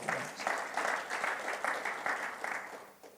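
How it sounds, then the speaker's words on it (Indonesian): Congregation clapping during a Sunday church worship service, a moderately faint, even run of applause from a crowd that tapers off near the end. "Yang setuju boleh tepuk tangan."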